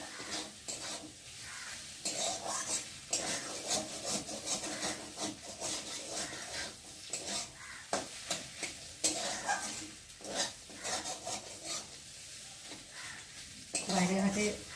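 Egg frying in a pan and being mixed into potatoes, with steady scraping stir strokes over a low sizzle, close and moderately loud throughout, no talk.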